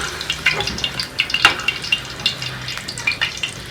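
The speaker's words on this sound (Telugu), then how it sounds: "సో ముందే ఇలాగా మిర్చి అండ్ కరివేపాకు ఫ్రై చేసుకోండి." Chilli and curry leaves fry in a pan of oil, giving a steady close crackle with scattered brighter pops and sputters, no voices over it.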